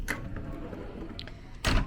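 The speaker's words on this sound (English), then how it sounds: "This is a pocket door." A pocket door in a Disney Magic concierge suite on a cruise ship gives a soft click early on, then slides shut with a short, loud rumbling thud near the end. Quiet room tone fills the space between.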